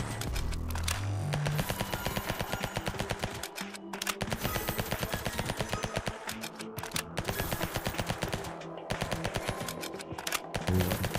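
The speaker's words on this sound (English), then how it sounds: "So that's your SMG, okay." A submachine gun fires in an action-packed video game: long, rapid, loud bursts of automatic gunfire that run almost nonstop for about eleven seconds, broken only by a few brief pauses.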